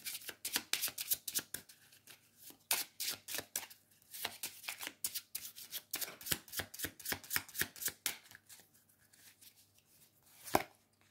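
A deck of tarot cards is shuffled by hand in a quiet room, giving quick, dense bursts of riffling card flicks that repeat steadily for several seconds, with one sharper slap near the end.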